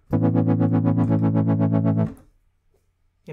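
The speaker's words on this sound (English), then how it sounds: "So now this LFO is mapped to the filter cutoff, as we can see with this green shaded area here. And if we play our synth" A software synth plays a sustained, buzzy distorted note whose filter cutoff is swept by an LFO, giving a fast rhythmic wah-like pulsing for about two seconds before it cuts off into silence.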